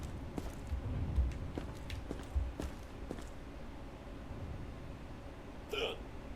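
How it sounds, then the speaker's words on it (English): A video game character hiccups a few times at irregular intervals during a quarantine-zone checkup, with faint footsteps and low background noise around each hiccup. "He does have hiccups"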